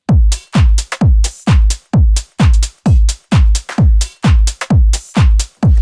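Minimal deep tech percussion with a rim shot and a groove clap locked in a tight, punchy repeating pattern over a booming low kick, loud and dry, about two hits per second, with no voices.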